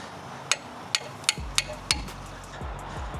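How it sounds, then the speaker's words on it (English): A sledgehammer strikes a tie rod fork on a Chrysler 300 during a tie rod replacement, giving five sharp metallic clanks at uneven intervals, close and loud, with faint background hum and no talking. "And we're gonna hammer it."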